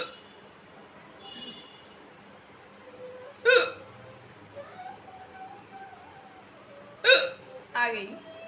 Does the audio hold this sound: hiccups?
yes